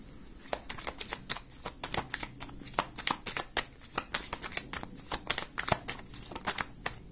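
A tarot deck is shuffled by hand in a rapid run of crisp, riffling card snaps and flutters, close and fairly quiet, continuing steadily with no voices.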